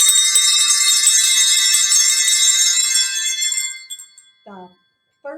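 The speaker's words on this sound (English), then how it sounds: "We added bells to go with the poem." Small bells rung in a kindergarten class for a Christmas poem give a bright, shimmering jingle that holds steady and then fades out, followed by brief children's voices.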